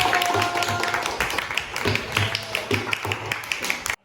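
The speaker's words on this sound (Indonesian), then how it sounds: "Tepuk tangan untuk kelompok 1." Students in a classroom clap for a group that has just finished its presentation, a brief scattered patter of hands with some talk mixed in.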